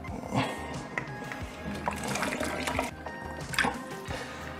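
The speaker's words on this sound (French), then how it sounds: "je vais pouvoir y mettre mes patates et mes carottes" Potatoes and carrots dropped into a pot of water for poule au pot, close splashing and sloshing of liquid with a few wet thuds and drips.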